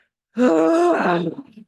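A single drawn-out, voiced moaning exhale during breathwork, starting fairly loud and close, sliding slightly in pitch and trailing off into a softer tail after about a second.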